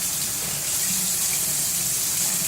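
Cold water runs steadily from a bathroom tap into a sink during a straight-razor shave, a continuous close hiss and splash with no talking.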